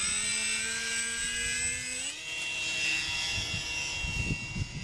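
A GWS Tiger Moth model airplane takes off crosswind on a windy day, its electric motor whine rising sharply in pitch as it throttles up, then holding a steady drone while gusty wind buffets the microphone.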